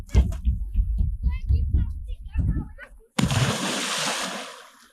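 Voices talk and shout briefly, then a sudden loud splash of someone plunging into a lake, followed by sustained churning and sloshing.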